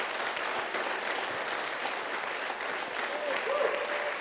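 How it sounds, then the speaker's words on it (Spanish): A church congregation claps together in steady, sustained applause for a few seconds, dense and moderately loud, with faint voices mixed in. "Dale un aplauso al Señor."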